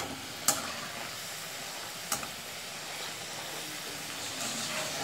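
Pepper vadas cooking in hot oil give a soft, steady background sizzle, broken by two brief sharp clicks early on, heard close and quiet with no one talking.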